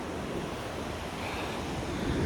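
Ocean waves wash up a beach in a steady, close, broadband roar of surf mixed with wind buffeting the microphone, with no talk.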